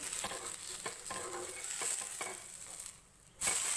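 Palak wheat-flour dosa, thin and crisp, sizzles on a hot pan as it is flipped: a steady, dense frying hiss with a few soft scrapes and taps, briefly quieter for a moment before the sizzle surges back loud.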